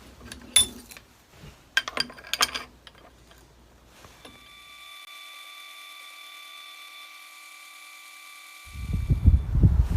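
Aluminum light bracket for a box truck being drilled: short bursts of tool noise and metallic clinking, then a steady, faint high whine from the drill for several seconds, then a louder rumbling burst at the end.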